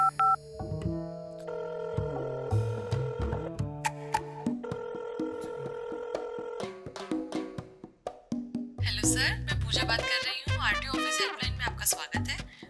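Telephone keypad tones and ringing on a handset, a run of distinct beeps and tonal dialing sounds followed by a ringing or connection tone, loud and close, with no talking over it.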